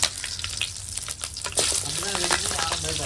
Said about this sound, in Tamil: பட்டை லவங்கம் ஏலக்காய் பெருஞ்சீரகம் ரெண்டு பச்சை மிளகாய் போட்டுக்கலாம்